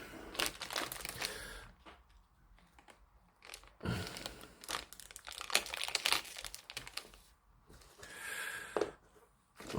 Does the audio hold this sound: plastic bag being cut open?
yes